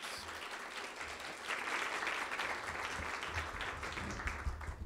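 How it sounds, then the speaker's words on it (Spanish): An audience bursts into warm, sustained applause to welcome a lecturer onto the stage at a talk on the Renaissance, the clapping building after a second and a half and staying steady and dense to the end with no voices over it. "recibamos con un afectuoso aplauso"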